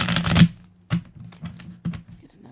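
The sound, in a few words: shuffling tarot cards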